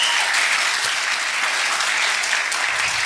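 Audience at a stand-up comedy show applauding, dense continuous clapping from a crowd filling the whole stretch at a steady, fairly loud level.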